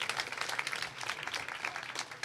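Applause from the audience at a 2022 commencement ceremony: a dense patter of many hands clapping steadily throughout, moderately quiet and fairly distant, with no talking over it.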